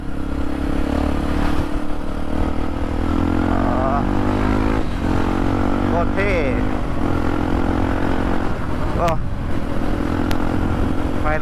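A Kawasaki KLX230 dirt bike engine droning steadily while riding, loud and close with a low, even hum, brief revving rises, and a rider talking over it.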